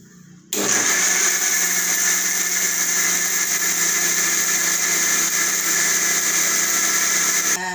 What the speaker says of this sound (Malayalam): ആദ്യം ഇതിനെ മിക്സിയിലിട്ടൊന്ന് അടിക്കട്ടെ